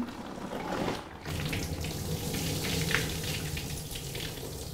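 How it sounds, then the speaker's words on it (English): Water is poured off from a pot into a kitchen sink, a close splashing stream that gushes, breaks briefly after about a second, then resumes and keeps running steadily. "I'm pouring off the water."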